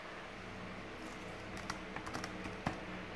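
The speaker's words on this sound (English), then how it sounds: "And I can plug in a USB keyboard, which I have done here." Quiet keystrokes tap out irregularly on a basic USB keyboard plugged into a Huawei phone, soft and close, with a few sharper clicks.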